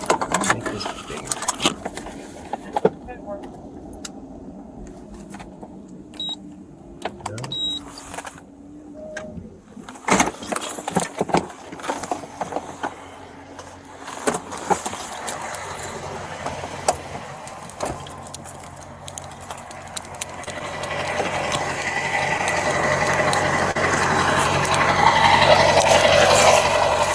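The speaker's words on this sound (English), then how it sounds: "This truck is loud and you hear it like the whole time." A loud truck engine runs steadily throughout with a low rumble that swells louder toward the end, punctuated by clicks and jangling sounds, while people talk intermittently over it.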